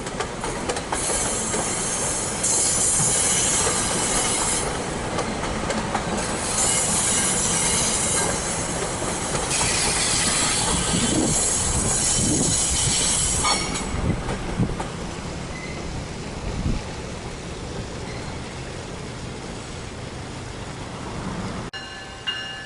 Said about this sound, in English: Also stopping at Trenton Transit Center is a commuter train made up of Silverliner 4s.